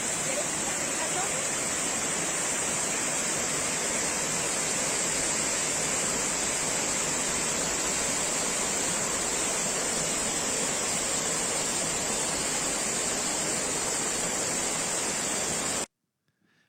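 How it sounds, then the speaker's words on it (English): Velo de Novia waterfall pouring in a steady, dense rush of broadband water noise, loud and continuous for about sixteen seconds before cutting off abruptly. "I am the waterfall called Velo de Novia."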